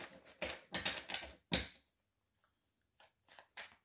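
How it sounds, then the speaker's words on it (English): Brisk bursts of cards riffling together, several quick shuffles in a row, close and fairly loud, then a pause and softer taps. "One more time, let's shuffle."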